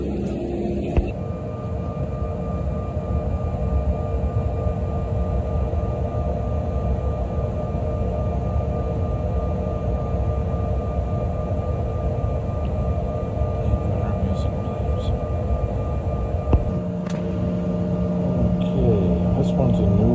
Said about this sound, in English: we had to sit here and idle for 15 to 20 minutes and burn enough fuel to be able to take off